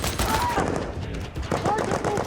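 Rapid gunfire from a tank battle scene in the war film Fury, with dense overlapping machine-gun bursts and rifle shots, loud and continuous, with shouted voices mixed in.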